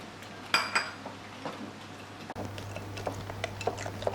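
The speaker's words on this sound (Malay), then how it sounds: "kita perlu hanya kacau dengan whisk saja" Milk being stirred by hand into a cream puff mixture with a whisk, light clinks and scrapes of metal against a bowl at close range, with a louder clatter early on.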